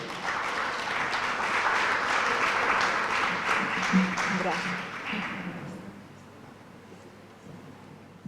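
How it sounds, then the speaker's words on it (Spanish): Hotel ceremony audience applauding a minister: sustained clapping from a sizable crowd that holds steady for about five seconds, then thins and fades toward the end. "forte aplauso para"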